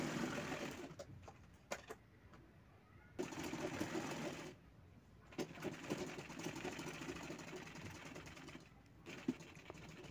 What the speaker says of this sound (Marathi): ते बॉटमला थोडंसं फोल्ड करून शिवत आहोत आपण.